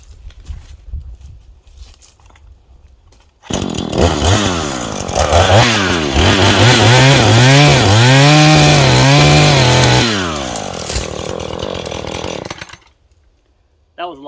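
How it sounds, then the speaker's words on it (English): A loud chainsaw roars to life and cuts through wood, its engine pitch bogging and rising under load for several seconds before cutting off. "Well, maybe I should get the chainsaw."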